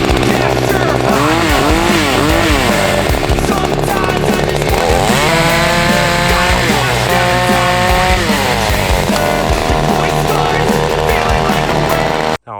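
An FX-KS262 Black Edition petrol chainsaw runs loud and close for over twelve seconds, its engine note revving up and down in repeated swells before it stops abruptly at the end.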